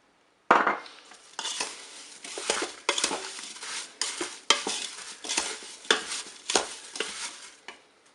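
Apple jam being stirred in a Cookeo multicooker pot, with repeated scraping and clinking strokes of a utensil against the bowl in an irregular rhythm, close and clear with no talk.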